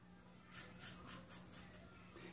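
Quiet, close scraping strokes of a Boker King Cutter straight razor cutting through long stubble, about six short rasps in a steady rhythm.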